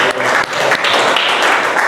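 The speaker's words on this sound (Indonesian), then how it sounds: "kita beri aplaus kepada kelompok 1" Students in a classroom applaud for group 1, a brief burst of dense, crisp clapping from many hands that is loud and close.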